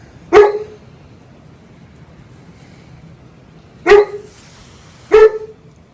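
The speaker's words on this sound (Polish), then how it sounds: "A tam delegacja szczeka na mnie." A dog barks three times, sharp and fairly close: one bark, a long pause, then two more about a second apart against quiet background.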